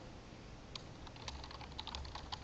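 Typing on a computer keyboard while editing a shared document: a quick, irregular run of soft key clicks, close and fairly quiet, with no voices.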